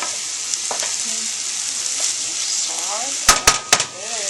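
Vegetables hit a hot pan with a steady, loud sizzle and frying hiss, followed near the end by a few sharp clatters of utensils against the pan, for a roasted vegetable ragu with ground turkey.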